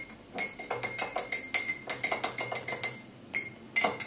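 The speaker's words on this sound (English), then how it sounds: "And give it a stir." Sausage casserole is stirred in a pan, with a utensil clinking and knocking against the metal in a quick, uneven rhythm, fairly close and with no voices.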